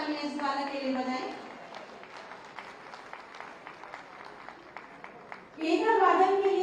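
Audience applause at a Uttar Pradesh Day prize ceremony for a boy winning first prize in light music, a steady patter of clapping between stretches of someone talking over a microphone.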